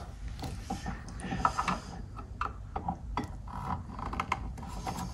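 A refurbished KitchenAid 6-quart bowl-lift stand mixer runs with its whisk and makes a bad noise: quiet, continuous grinding and ratcheting with gear-like clicks and rubbing.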